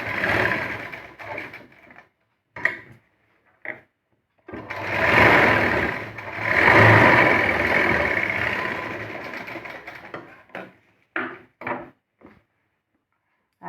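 Sewing machine stitching a puff sleeve seam in bursts, running steadily for a few seconds at a time, pausing between runs, with a couple of short quick stitch bursts near the end; close and fairly loud, no talking.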